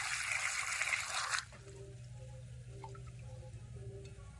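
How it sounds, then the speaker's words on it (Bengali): Water pours over ivy gourds in a bowl, a close rushing splash that stops abruptly after about a second and a half, leaving faint drips and a low hum. "কুঁদরির মধ্যে জল দিয়ে দেবো"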